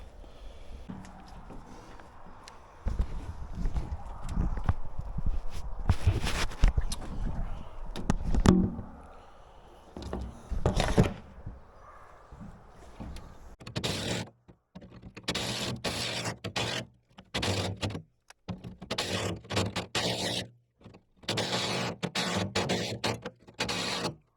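A drill bores holes for rod holder mounts on a FREWZA B21 boat, its motor whirring in repeated bursts of varying length separated by short pauses, close and fairly loud.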